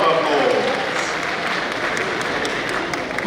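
An audience at a symposium and book launch breaks into sustained applause, a dense wash of clapping at moderate loudness with a voice speaking faintly beneath it.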